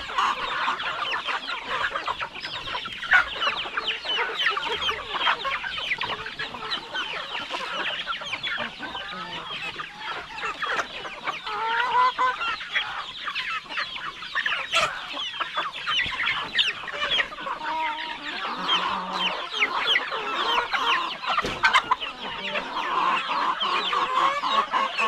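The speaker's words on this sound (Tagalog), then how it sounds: "Lalo na pag lumaki na yung mga siso natin na mga maliliit pa." A flock of chickens and small chicks cluck and cheep on a farm, a dense, continuous chorus of overlapping calls close by for the whole stretch.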